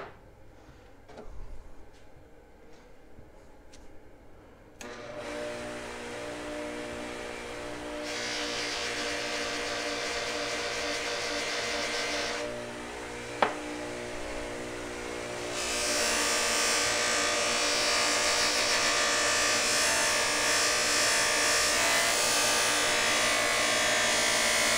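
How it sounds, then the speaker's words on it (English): A polishing wheel spins up and buffs a wooden hand plane, starting from a quiet workshop into a steady whirring hum that grows louder and fuller as the workpiece is pressed in, with a brief sharp tick partway through. "let's take it over to the polishing wheel and we'll polish"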